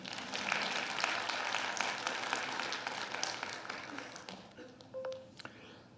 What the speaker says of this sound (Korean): 이런 거 좋으면 박수를 쳐야 되는데.